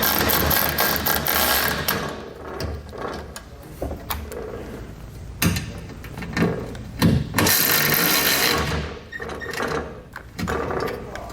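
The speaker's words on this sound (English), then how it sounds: "We just need to go ahead and grab our ratchet and our socket set one more time" A ratchet and socket tighten small bolts on a Thule TracRac TracONE truck bed ladder rack. Clicking and clattering mechanical sounds come in uneven bursts against a busy, noisy background.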